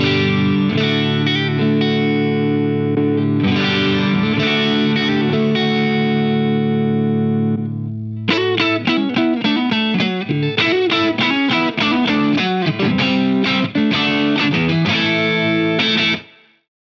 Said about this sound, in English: It takes high gain distortions or fuzzes without any issues.